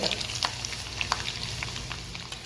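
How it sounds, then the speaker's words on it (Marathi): Garlic frying in hot oil alongside spluttering cumin seeds in a home kitchen, a steady sizzle broken by scattered sharp pops and crackles, close and moderately loud with no talking. "जिरं चांगल्या प्रकारे तडतडल्यानंतर आपण लसूण ऍड करायचं आहे लसूण लालसर होईपर्यंत वाट बघायची व्यवस्थित असा फ्राय होऊ द्यायचं"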